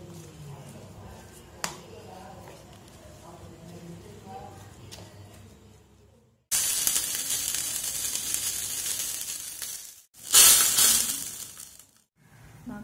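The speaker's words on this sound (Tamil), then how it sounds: "நான் கடுகில் தாளிச்சிருக்கேன்." Mustard seeds tempering in butter in a bread breakfast dish, a loud bright sizzle and crackle that starts abruptly and flares louder near the end, preceded by quieter kitchen sounds and talk.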